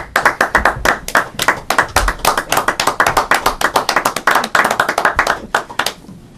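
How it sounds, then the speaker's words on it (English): Audience clapping for office staff at a meeting, loud and close, with many hands clapping in a dense, uneven patter that continues steadily and thins at the end. "so we ought to give them a little round of applause."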